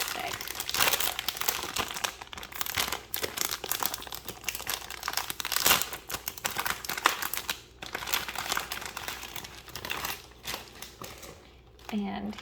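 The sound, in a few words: opening and crinkling plastic packaging of Velvet Rose Bonnie doll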